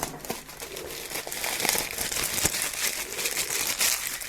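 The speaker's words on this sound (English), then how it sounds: "Take the plastic off." Plastic wrap is peeled off the packaging of a Sabinetek SmartMike+ Bluetooth microphone, close crinkling and crackling in irregular bursts with a few sharper snaps, heard alone.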